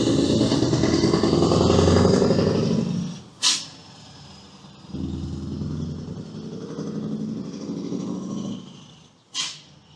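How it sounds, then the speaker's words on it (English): A Scania V8 truck engine rumbles nearby, loud at first and then settling lower, with two short sharp hissing bursts from air releases. "To me, that's the best sounding new V8 I've ever come across"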